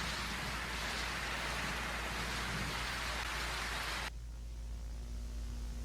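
Rain falls in a Left 4 Dead video game as a dense, steady hiss of drops on surfaces that cuts off abruptly near the end and leaves a quieter hum.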